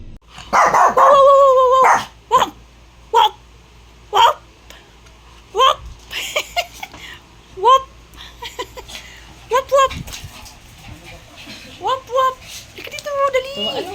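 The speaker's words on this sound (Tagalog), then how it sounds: "Aso yan. Shih Tzu." A small Shih Tzu dog barks in short, sharp yips, repeated irregularly, close by, with people talking in between.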